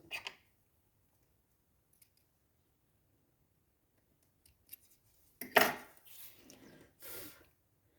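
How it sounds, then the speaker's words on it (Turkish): Scissors snip thread during needle lace work, a few short, sharp cuts close by in a mostly quiet room. "Şimdi o ipi keselim."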